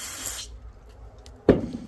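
Cleaner is sprayed onto a Troy-Bilt TB70SS weedeater carburetor in one short hiss at the start, then a second sharp spray burst follows after a pause, close and alone.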